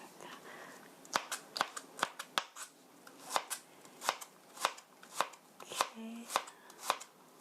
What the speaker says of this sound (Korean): 칼을 갈지 않으면 양파를 썰 수가 없어요.